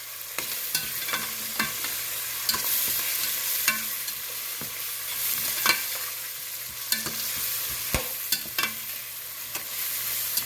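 Thyme being stirred into seasoned rice in a pan, with a steady sizzle beneath repeated scraping and clacking spoon strokes at an irregular rhythm, close and moderately loud, with no talking.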